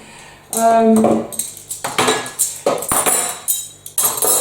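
Metal cutlery clinks and clatters as it is dropped into a kitchen drawer, a burst of bright jangling followed by a series of sharp, close clinks in an irregular rhythm, with no talking.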